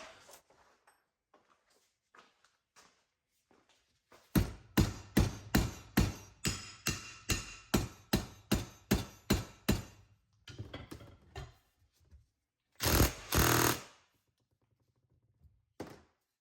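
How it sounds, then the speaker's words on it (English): A rapid series of sharp metallic hammer taps on a BMW driveshaft center support bearing, about a dozen evenly spaced blows, then a pause and a short louder burst of banging. "We'll get an actual hammer and tap it a little bit and see what'll come out."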